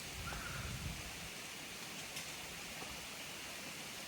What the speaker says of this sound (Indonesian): Waduh, hujan deras, hujannya datang.